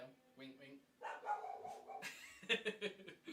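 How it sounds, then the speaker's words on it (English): Dogs bark and yip several times in short bursts in a home during a live online chat, the barks mixing with a person talking close to the mic. "Sorry about the dogs."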